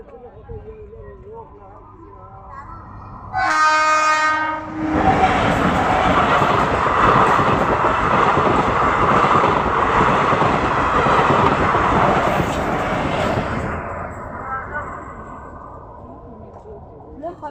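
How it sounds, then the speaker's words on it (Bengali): A train horn blares briefly, then a train rumbles loudly past a railway level crossing at close range for several seconds before the noise fades away. "হাজরাহাটের রেল গেটের সামনে।"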